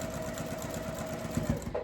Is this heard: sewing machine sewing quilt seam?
yes